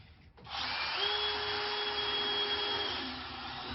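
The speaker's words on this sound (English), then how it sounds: "it's actually making it a lot easier for the drill to get through" A power drill whirs steadily at high speed through metal for a few seconds after a brief pause, loud and close, with a slight grinding edge; the part drilled is a car subframe that is already cracked.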